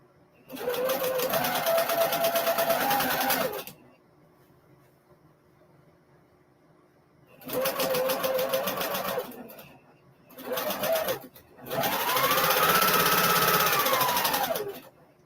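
A sewing machine runs in several loud, steady bursts of a few seconds each, whirring at a constant speed and then stopping, with quiet gaps between them while a pattern is pieced together.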